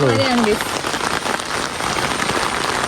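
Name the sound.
heavy rain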